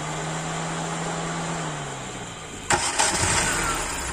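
A 2007 Hyundai Porter truck's engine cranks and catches with an abrupt burst, then settles into a steady idle after a stretch of low steady noise.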